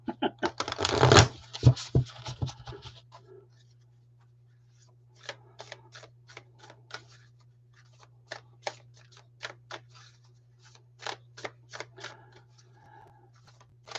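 Cards being shuffled in a quick riffle burst, followed by a series of sharp, evenly spaced snaps and taps, close by over a steady low hum.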